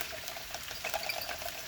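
Coconut milk and hot water pour into a pot of rice, a continuous soft splashing trickle close by, with small bubbling bursts and no voices.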